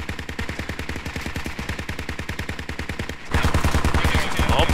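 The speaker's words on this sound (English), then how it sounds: "That was pretty good shooting by that 50 from a long ways away." A .50 caliber machine gun in the military shooter Squad fires long rapid bursts of evenly spaced heavy shots, loud and close, ending in a denser, harsher stretch of sustained fire.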